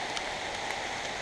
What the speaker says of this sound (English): Halfway up Blood Mountain and it's raining.